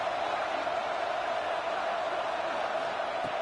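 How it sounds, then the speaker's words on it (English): A stadium crowd roars at a college football game, a dense sustained wall of cheering noise with no breaks, loud and distant-sounding, with no individual voices standing out. "It's early, but this crowd is fired up. Listen to this noise here."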